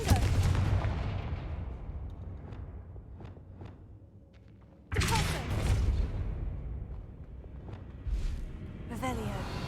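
Confringo spells explode in Hogwarts Legacy, heavy booming blasts that hit loud and close, each trailing off in a long rumbling decay, with a second strong blast midway and smaller crackles.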